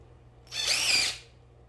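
A power drill whirs at high speed for about three-quarters of a second, rising in sharply and cutting off, close by with a faint background hum, its bit falling out while drilling soft pallet wood.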